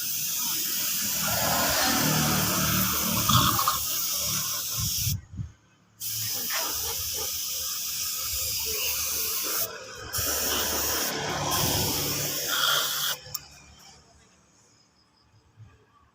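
A spray gun applying paint to a motorbike body at a roadside spot, long steady hissing bursts with brief pauses between passes, close and fairly loud over faint background traffic.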